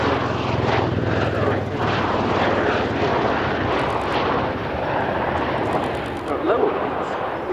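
A USAF Bell Boeing V-22 Osprey tiltrotor performs a flying display at an air show, its rotors tilted near vertical for a full-stop landing, giving a loud, steady, broadband roar with low rotor thump throughout and no audible talk.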